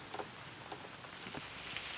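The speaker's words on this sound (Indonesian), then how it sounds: "Ini baru nyampe lokasi tapi ternyata malah hujan." Rain falls steadily at an outdoor hunting spot during the wet season, a soft continuous patter with a few faint individual drops standing out, fairly quiet and without talk.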